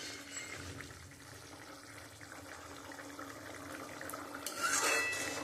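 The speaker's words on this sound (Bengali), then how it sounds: "ঝোলটা ফুটে গেছে" Fish curry broth bubbling and simmering in a pan gives a steady, soft, watery bubbling at close range, rising slightly toward the end, with no talk.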